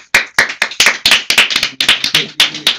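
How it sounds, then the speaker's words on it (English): Applause for a singing duo at a talent show, made up of crisp, distinct claps in a steady rhythm, close and loud, sounding like only a few hands rather than a large crowd. "Let's give a hand of applause for them, please."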